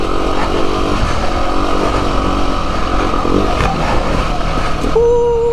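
A motorcycle on a ride-out, its engine droning steadily and loudly up close with shifts in pitch as it accelerates, wind buffeting underneath.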